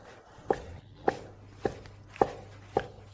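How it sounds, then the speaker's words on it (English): A knife cuts through toast bread on a board, dicing it into even cubes: five crisp, evenly spaced chopping thuds about half a second apart, close and clear with no talking. "The most difficult task is now to cut the toast bread into even cubes."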